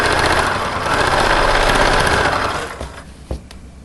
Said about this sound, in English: I didn't pin these pleats, I'm just sewing them in.